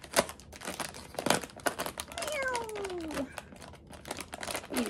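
Scissors cutting open a plastic shipping package, close and fairly quiet: sharp snips, crinkling plastic, and a short tearing sound in the middle, with no talk.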